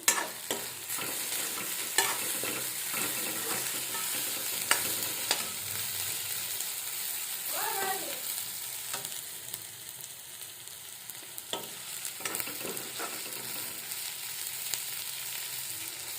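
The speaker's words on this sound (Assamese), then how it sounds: "এয়া ভাজ খাইছে আদা নহৰুখিনি" Ginger and garlic fry in a pan of home-cooked meat, a steady crackling sizzle broken by repeated scraping stirs and occasional sharp taps of the spoon, close by with no voices.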